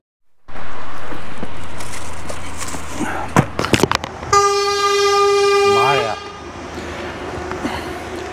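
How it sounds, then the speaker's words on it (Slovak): Loud vehicle horn honking in traffic, a sustained blaring tone lasting a couple of seconds after some short clatters, over constant engine and street rumble, with someone talking. "Tieto autobuse, keď trúbia,"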